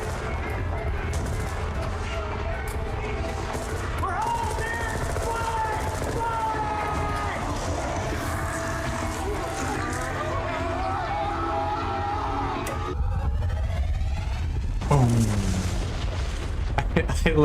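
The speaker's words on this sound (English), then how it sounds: "it looks like there's explosions from basically every single point of that ship" A ship in StarCraft is wracked by continuous booming explosions, a dense rumbling barrage with tonal effects over it, swelling into a louder burst near the end.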